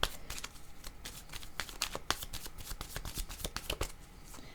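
Playing cards being shuffled close up, with rapid rustling riffles and soft flicks in an irregular run and no voices.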